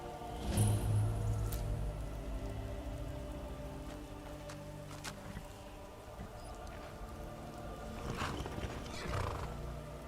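A horse in Skyrim, a video game, gives a faint, quiet neigh near the start, followed by soft hoof clip-clops amid steady rain.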